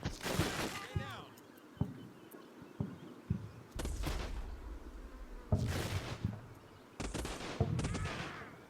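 Distant, muffled bursts of small-arms and machine-gun fire crackle in several separate volleys during a WW2 battle in northern Sicily in Combat Mission: Fortress Italy, fairly quiet overall.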